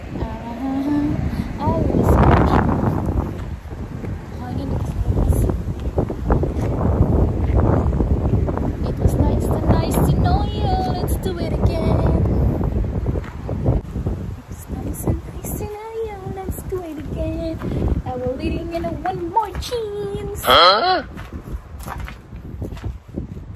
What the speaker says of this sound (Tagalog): Pumasok na ako dito sa loob kasi ang ingay sa labas tapos ang lakas ng hangin